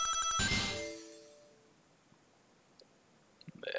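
Ring-collecting chimes from the Nintendo DS platformer Sonic Rush ring out loud at the start, a bright burst of tonal pings that fades over the first second, followed by near silence with a few faint clicks.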